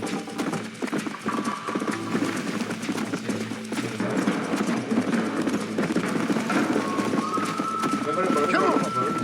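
Galloping horse hooves in the Red Dead Redemption video game, a steady fast clip-clop running throughout alongside game sounds, with someone talking over it.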